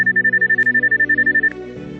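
Signal-strength beeping from a detector locator app, a fast regular run of identical high electronic beeps that stops after about a second and a half, leaving a faint hum.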